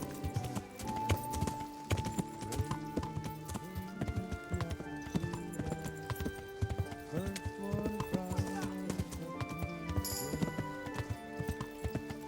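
Horses in the video game Kingdom Come: Deliverance come running up, with hooves clip-clopping and a whinny over a busy background of music throughout.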